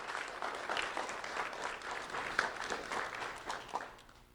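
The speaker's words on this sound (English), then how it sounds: "Brianna, round of applause for Brianna Haas." Steady applause from an elementary school audience honoring a student at a recognition event, dense clapping held at an even level throughout, with a few sharper individual claps standing out.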